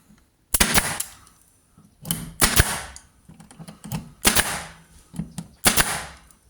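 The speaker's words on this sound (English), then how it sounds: "So now I can get the staple gun." A staple gun fires repeatedly as wall panels go back into a VW LT31 Karmann Distance Wide camper van, sharp loud snaps in about five spaced bursts, some doubled, with quiet gaps between.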